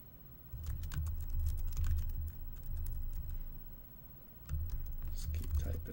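Steady bursts of computer keyboard typing, rapid clicking keys in uneven runs with short pauses, close and fairly quiet.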